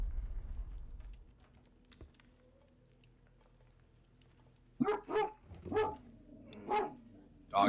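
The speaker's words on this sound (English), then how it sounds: "Dog jump scare." A dog barks suddenly as a jump scare in the video game Romeo Is A Dead Man, a rapid run of five or six loud barks after several seconds of quiet, low ambience.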